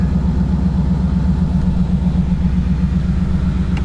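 A Dodge Hellcat engine runs close by with a loud, steady, deep rumble and an even pulsing throb, holding constant with no revving.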